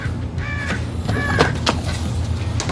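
Several harsh crow caws ring out in short bursts over a steady outdoor background, fairly close and clear.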